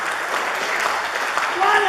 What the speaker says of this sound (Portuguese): Aplaude aí, por favor